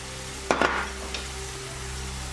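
Peas added to a hot pan of frying food for a stuffed artichoke dish, giving a sudden loud sizzle burst that quickly settles into a steady, softer frying hiss.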